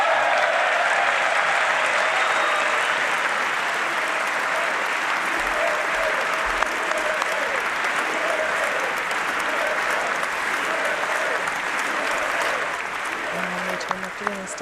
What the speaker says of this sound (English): Applause there in the chamber for the president